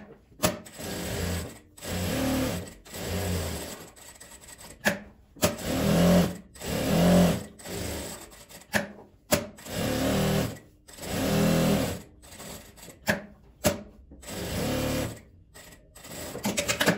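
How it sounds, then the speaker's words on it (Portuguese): A sewing machine stitches two squares of fabric under a presser foot, running in steady mechanical bursts of a second or two with short pauses between seams, close and alone. "Vou costurar com um pezinho de máquina."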